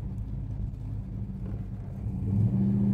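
A 1969 Dodge Coronet drives along with a low, steady engine rumble that swells near the end as the motor revs up, heard from close by without any talk.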